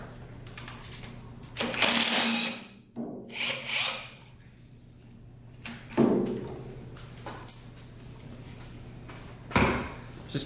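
Hand tools work the two starter bolts loose on a 40-year-old 650cc motorcycle engine, giving bursts of scraping, rubbing and clicking separated by short pauses, close up with no talk.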